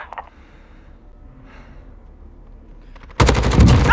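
Automatic gunfire from a sentry gun in Call of Duty: Modern Warfare (2019), hardcore Headquarters mode, bursting in suddenly and loudly near the end after a quiet stretch of faint game ambience.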